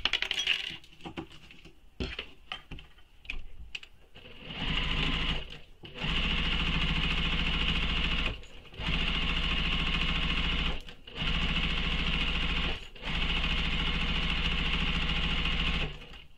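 Sewing machine basting along the top edges of a fabric shoulder bag, opening with light clicks and handling noises, then steady motor runs in several bursts separated by brief pauses.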